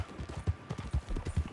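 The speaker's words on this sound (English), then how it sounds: "whoa, that was like a Red Dead 1 horse flying past me" A horse gallops past in the Red Dead Online video game world, its hooves making a rapid, rhythmic clip-clop that beats steadily and fairly close for a moment.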